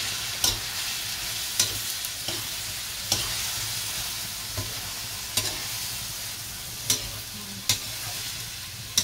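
Sardines and cabbage sauté in a pan with a steady, close sizzle, broken by regular scraping stirs of a utensil roughly every second, with no talking.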